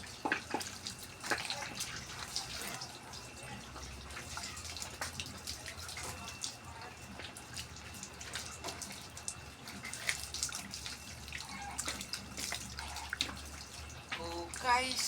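Water splashes and runs steadily while someone bathes outdoors, a continuous wash of spray and trickling with occasional louder splashes, and voices exclaim now and then over the flow.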